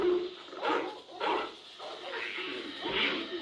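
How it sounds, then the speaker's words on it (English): Dogs barking and whimpering in a scene from the 1982 film The Thing, several yelps and barks in bursts over a low background, fairly close. "Those doggies better not get eaten by that other doggy."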